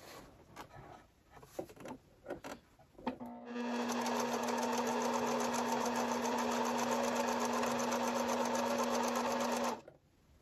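A Singer CG-550 sewing machine stitching scrap denim at a 2 mm stitch length, a steady close mechanical whir and rapid needle clatter running for several seconds after a few brief handling clicks.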